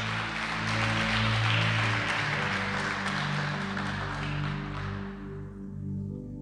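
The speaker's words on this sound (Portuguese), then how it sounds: "Você pode aplaudir Jesus por isso?" A church congregation applauds in a steady, dense wash of clapping that swells and then fades out toward the end, with music playing underneath.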